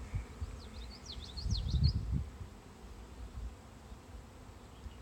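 A thin, low buzz of honey bees on a sparsely covered hive frame, with brief rustling and handling sounds and a few faint chirps in the background.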